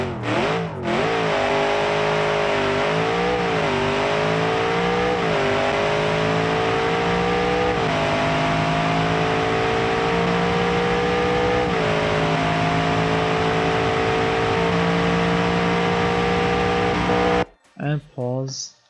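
A loud, powerful naturally aspirated muscle car V8 engine in BeamNG.Drive roars steadily, revving up and down through gear changes, then cuts out abruptly near the end before a brief rumble.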